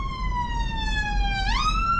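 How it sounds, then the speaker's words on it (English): An ambulance siren sounds behind a car on a driving test route in Goodmayes, a loud, steady wail sliding slowly downward, then sweeping sharply upward near the end, with no talking. "there's an ambulance coming behind me actually, so I'm gonna stay put"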